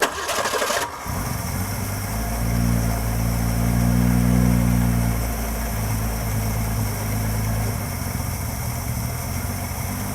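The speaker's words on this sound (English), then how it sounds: "idling a little rough initially, but we have a running 6-cylinder, folks" A Ford 200 inline six cranks briefly, then catches and settles into a loud, rough, uneven idle with a low rumbling throb that swells and eases, close by with no talk over it.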